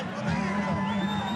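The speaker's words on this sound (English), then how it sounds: "Mike Spinks makes his way as the crowd touches him" Boxing arena crowd cheering and roaring as Mike Spinks enters for the Tyson vs Spinks fight, a dense, steady wall of crowd noise with babble throughout.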